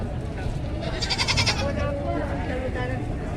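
A goat bleats a few times amid a busy, noisy outdoor livestock auction in Padre Garcia, Batangas, with talk and background chatter throughout.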